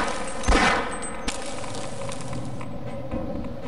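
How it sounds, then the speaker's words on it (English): Gunfire in the video game Half-Life shooting at the player: a loud burst of shots early on, then a few clanging hits over a steady mechanical game ambience, with no talking. "Something's shooting at me."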